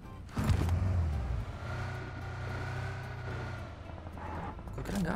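A car engine in the video game PUBG runs steadily through the clip at moderate loudness, a low continuous drone with faint revving, while players talk over it.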